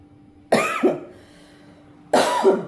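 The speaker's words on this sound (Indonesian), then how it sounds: "batuk." Two separate loud, close coughs from a person, each a harsh burst with a short follow-up rasp, separated by a pause of about a second and a half.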